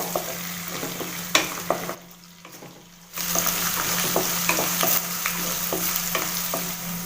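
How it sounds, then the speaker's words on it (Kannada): Chopped onions frying in a pan for a beans and green gram palya, a close, steady sizzle with spatula stirring and scraping, briefly dropping out for about a second before resuming just as strongly. "ಈರುಳ್ಳಿ ಹಾಕೊಂಡ ನಂತರ ಚೆನ್ನಾಗಿ ಒಂದ್ಸರಿ ಫ್ರೈ ಮಾಡ್ಕೋಬೇಕು"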